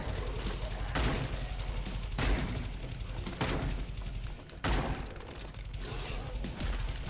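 Cannon fire in a combat video game: heavy booming shots land roughly every second over a continuous low rumble.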